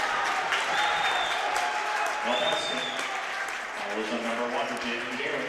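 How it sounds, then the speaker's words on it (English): A home crowd of Eau Claire North fans at a boys high school basketball game cheers and claps after an offensive foul, with some jeering mixed into the sustained noise of the gym while an announcer talks over it. "North fans cheer with a little bit of Bronx cheer mixed in"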